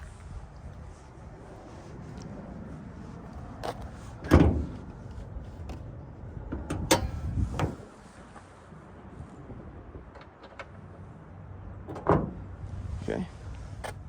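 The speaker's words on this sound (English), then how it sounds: "Oh yeah, and it does have power windows." Power windows on a 1991 Toyota Sera moving up and down, a low motor hum punctuated by clunks and thuds as the glass stops, fairly quiet and close, with a person speaking nearby.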